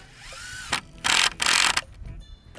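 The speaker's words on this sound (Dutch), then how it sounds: "Uiteraard boren we dat even voor" A power drill whines into wood in two or three short bursts, drilling pilot holes for screws while building a garden log cabin, close by, with brief pauses between and a faint mechanical hum before.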